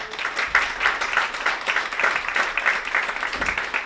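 A round of applause from an audience at a student press storytelling event after a speaker shares his words, moderate clapping that holds steady for a few seconds with no voice over it.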